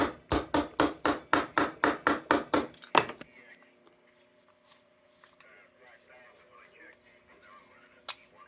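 Small safety hammer taps rapidly on a 1926 Dietz Blizzard metal lantern, about a dozen sharp evenly spaced close strikes, then quiet shuffling, faint talk and one last tap.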